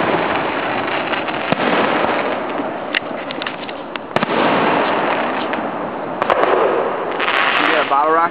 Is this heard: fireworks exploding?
yes